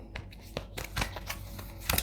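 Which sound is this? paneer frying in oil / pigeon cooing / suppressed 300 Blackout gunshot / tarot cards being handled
tarot cards being handled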